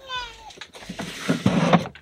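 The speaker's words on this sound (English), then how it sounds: "There's my kitty." A pet cat meows once at the start, close and fairly clear, followed by someone speaking indoors.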